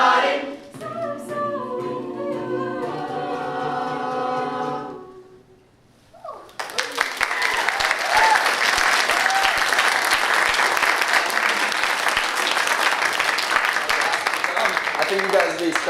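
After a short stretch of singing, an audience breaks into loud, sustained applause and cheering that fills the room and holds steady to the end.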